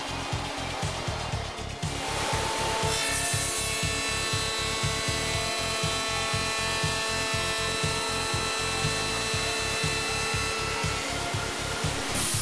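A Hundegger K2i joinery saw machining timber, cutting rabbets and chamfers: a loud, sustained whine with steady rhythmic clattering from the machine, continuous for the whole stretch with no voice.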